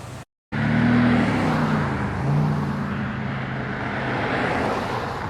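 Classic Ford car driving past at a car show, a close, loud engine rumble with a low droning tone that wavers slightly as it passes over steady crowd and outdoor background noise.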